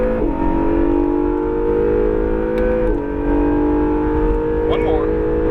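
An Acura NSX engine revving hard on a race track, a loud, sustained whining drone that drops in pitch at gear shifts, close and continuous.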